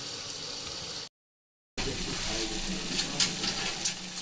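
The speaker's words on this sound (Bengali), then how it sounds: "মোটামুটি দু তিন মিনিট কষিয়ে নিয়ে জল দিয়ে দিই" Water is poured into a pan of spiced young jackfruit frying in its masala, producing a hissing, bubbling sizzle that stops for a moment, then returns louder and steady with a few sharp spattering crackles near the end.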